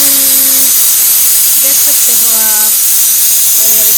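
A pressure cooker cooking dal (lentils) releases a loud, continuous hiss of steam close by, while a voice speaks briefly over it.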